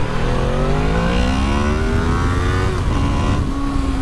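A Honda VFR motorcycle engine revs up in first gear, its pitch climbing steadily and then holding high. The sound is loud and close, with no talking.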